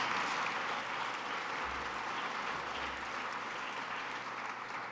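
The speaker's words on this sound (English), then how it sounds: "So let's give the Empire Club a round of applause." A sold-out house at an Empire Club event breaks into a sustained round of applause, a continuous even crackle of many hands filling the room from start to finish.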